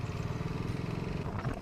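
A motorcycle ridden through traffic, its engine giving a steady close mid-pitched drone with wind rush and no clear changes in speed.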